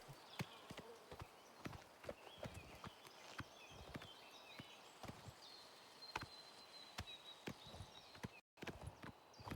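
Horse hooves clip-clopping in the video game Oblivion Remastered, a steady rhythm of sharp, close hoofbeats over a soft ambient background with a brief gap near the end.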